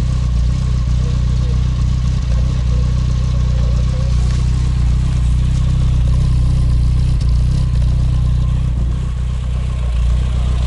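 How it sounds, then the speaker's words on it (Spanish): The exhaust of a running BMW M3, a deep, steady low-frequency burble that stays close and loud with little change across the clip. "Ahora vamos a grabar"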